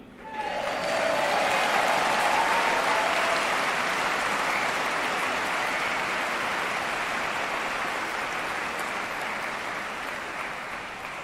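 A large live audience at a Save Soil event in Dubai breaks into loud, sustained applause, a dense wash of many hands clapping that swells quickly and then slowly tapers off.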